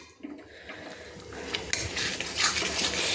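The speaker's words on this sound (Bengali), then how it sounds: "এইভাবে একটু নেড়ে নিতে হবে মশলার সঙ্গে টক দইটাকে।" Sour yogurt being stirred into a spiced masala in a pan, with close scraping and clinking of a utensil against metal and a soft moist sizzle underneath, growing busier toward the end.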